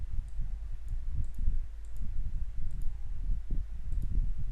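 A computer mouse clicking, faint and intermittent, a handful of light ticks spaced irregularly over a steady low background hum.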